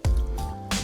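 Capicola rinsed in a big bowl of water to rub off its 14-day cure seasoning: close, wet squishing and dripping with a brief splash at the start and another near the end.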